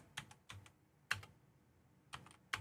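Typing on a computer keyboard, a few sparse clusters of quiet close key clicks with pauses between them.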